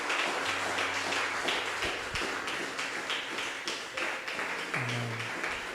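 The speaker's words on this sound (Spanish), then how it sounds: "Le damos un fuerte aplauso a nuestro Dios." A church congregation applauding God, a steady dense patter of many hands clapping at close range throughout, with brief low tones rising underneath.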